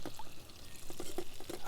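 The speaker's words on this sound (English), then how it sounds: "Just keep draining the water out." Water drained from a pot of boiled potatoes, a close pour with irregular splashy gurgles and trickles and no voices.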